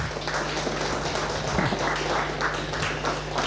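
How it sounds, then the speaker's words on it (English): A conference audience at a biodiversity finance training event claps steadily together, a dense, even patter of applause heard up close for a few seconds, with a low hum underneath. "Johannes, big applause."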